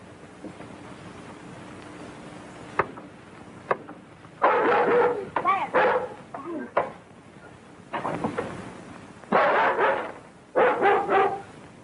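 A dog barks behind a closed door in repeated bursts, with a few sharp knocks or thumps before the barking builds into loud, clustered volleys with short pauses between them.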